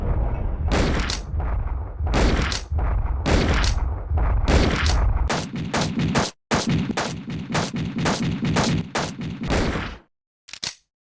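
Magnum gunshots in Resident Evil Survivor ring out as loud, close, sharp cracks, spaced apart at first, then fired in a fast run of repeated shots before stopping, with one last shot after a pause.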